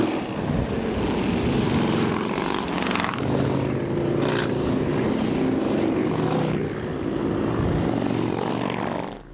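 Many Hells Angels motorcycles roar together as a large procession leaves the Newmarket area toward Toronto, a loud, steady, unbroken engine drone close by.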